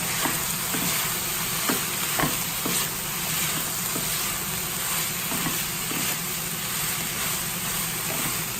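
A salad mix of lettuce and vegetables stir-fries in a hot pan, giving a continuous sizzle broken by light scraping and tapping of the utensil, near and fairly loud, with no talking.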